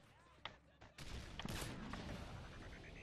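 Sniper rifle fire in Modern Warfare 3 multiplayer: a sharp single shot, then a heavier blast followed by a loud, sustained crackle of gunfire and game effects.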